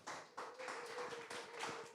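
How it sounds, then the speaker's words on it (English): An audience at a Web3 AI event in Seoul claps, a quiet patter of hands with a few sharper bursts and no voices. "let's give him a big round of applause"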